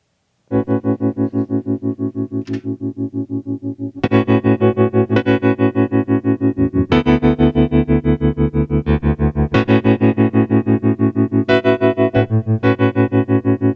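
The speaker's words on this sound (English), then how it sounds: "Make sure I have the right sound on my Nord." A Nord keyboard plays loud sustained chords during a live performance, with a distorted, chorus-laden tone and a steady pulsing tremolo that shifts between several chord changes, with no voices.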